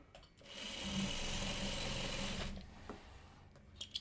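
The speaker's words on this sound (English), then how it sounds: "I'm just sewing some 2 squares here." Sewing machine stitching two quilt squares together for a Farmer's Wife quilt block, a close, steady whirring run of about two seconds that slows and stops, followed by light handling clicks, no talking.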